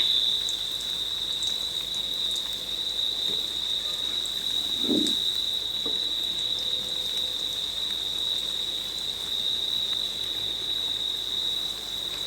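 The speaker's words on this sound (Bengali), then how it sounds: "খুবই অল্প আঁচে ভেজে নিতে হবে তাহলে কিন্তু পাকোড়াগুলো খুবই মুচমুচে হবে" Potato pakoras fry in oil over very low heat, giving a soft, steady crackle and patter under a constant high-pitched ring, with one brief louder pop midway.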